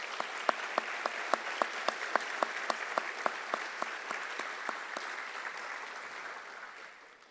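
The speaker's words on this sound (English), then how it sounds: "One more time, a round of applause for our retirees." An audience at an employee recognition night applauds retirees, dense clapping marked by sharp rhythmic claps in a regular beat that soften and trail away over about seven seconds.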